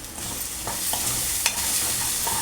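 Turmeric is stirred into masala frying in oil for a chemma kaaya (taro root) curry, giving a steady hiss with a few sharp spoon scrapes against the pan and no voices.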